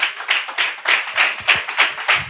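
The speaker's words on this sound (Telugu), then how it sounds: "చప్పట్లు కొట్టండి ఒకసారి" A church congregation clapping hands together in a steady rhythmic beat, about eight claps in quick succession, loud and close with no talk.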